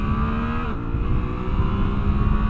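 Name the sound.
Suzuki V-Strom 800DE motorcycle accelerating on street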